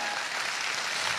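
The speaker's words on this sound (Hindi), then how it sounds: "अब तक की सबसे जोरदार ताली" Loud, steady applause from a seated audience at a talk about the organisation SLPS, dense and even throughout with no voices on top.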